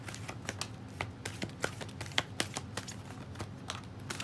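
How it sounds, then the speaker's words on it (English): Wisdom of the Oracle tarot cards are shuffled and drawn, giving a string of crisp, irregular papery taps and flicks, close and fairly quiet, with no talking. "we're gonna draw some Wisdom of the Oracle cards"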